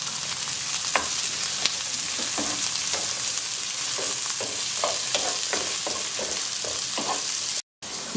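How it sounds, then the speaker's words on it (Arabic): Green peppers fry in a pan after onions, with a steady sizzle and the repeated scrape and clack of a utensil stirring, close and continuous with no voices. "بعد ما تقلاتنا البصله مزيان كنضيفوا الفلفله وكنقليوها كذلك"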